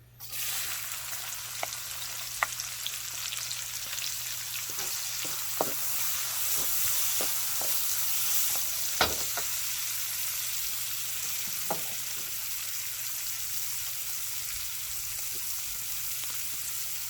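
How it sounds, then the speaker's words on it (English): Minced onion frying in a pan for bacon fried rice, a steady soft sizzle and hiss throughout, punctuated by occasional sharp pops and light scrapes of stirring. "next we are going to add our minced onion"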